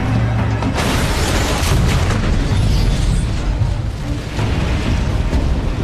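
A tanker truck explodes in an action film scene, producing a loud, sustained low roar and rumble with crackling bursts that fill the whole stretch before easing slightly.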